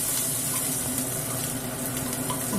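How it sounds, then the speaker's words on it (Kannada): Chana dal, mustard seeds and cumin frying in hot oil for a tempering, giving a steady close-up sizzle with scattered crackles and no voices. "ಕಡಲೆಬೇಳೆ, ಸಾಸಿವೆ, ಜೀರಿಗೆ ಇಷ್ಟನ್ನು ಹಾಕ್ಕೊಂಡು ಚೆನ್ನಾಗಿ ಫ್ರೈ ಮಾಡ್ಕೊತಾ ಇದ್ದೀನಿ"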